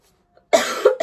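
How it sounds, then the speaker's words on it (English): A dry cough repeats in two close, loud bursts after a short silence, harsh and breathy, with no talking around it. "I still have the cough, dry cough that don't want to stop."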